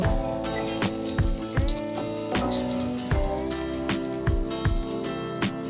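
Eggplant slices fry in hot oil for a Bangladeshi breakfast meal, giving a continuous bright sizzle with bursts of bubbling and crackle and a few clunks from a utensil, close and fairly loud throughout.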